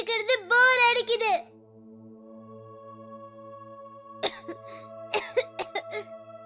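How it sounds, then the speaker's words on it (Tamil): A young boy, home sick from school, lets out a short burst of coughing at the start, then goes quiet under a low background hum before a few faint breathy sounds near the end. "மறுபடியும் இருமல் வந்துருச்சு பாரு."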